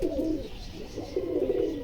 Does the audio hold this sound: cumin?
no